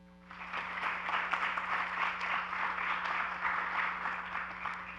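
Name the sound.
audience applause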